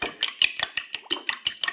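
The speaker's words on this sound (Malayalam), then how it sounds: "ഇനി നല്ലോണം മിക്സാക്കി കൊടുക്കാം" A utensil beats milk cake batter against the side of a bowl in a quick, regular rhythm of about five taps per second, with light, bright clicks in an otherwise quiet room.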